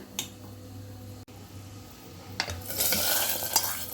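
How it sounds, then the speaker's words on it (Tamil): Cashews roast in a pan for sweet pongal, with a few light clinks of a spoon against the pan, then a rising soft sizzle and stirring scrape over the last second or so. "சக்கரை பொங்கலுக்கு முந்திரி வறுத்து போட்டுக்கிறேன்"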